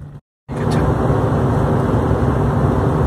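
A van driving a dirt road out of the desert from Shelf Road, a loud, close, continuous rumble of engine and road noise after a brief cut of silence at the start.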